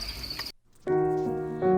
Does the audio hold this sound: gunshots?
no